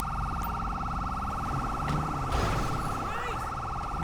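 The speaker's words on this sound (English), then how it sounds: "That siren getting on my nerve." Police siren in the LSPDFR police patrol mod of a driving video game, a steady wailing tone running through the whole stretch, fairly loud, with someone talking over it and background traffic noise.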